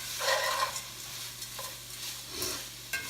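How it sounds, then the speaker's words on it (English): Noodles are stirred into a pan of hamburger and onion, giving a soft, steady sizzle with intermittent scraping and stirring sounds, moderately quiet and close. "go ahead and add the noodles to the pan and let them start"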